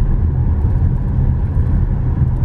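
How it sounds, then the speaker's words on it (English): A lorry drives along a narrow road in the Peak District, a loud, steady engine rumble and road roar close by for the whole stretch, with no talking. "I don't think that lorry is supposed to come down here"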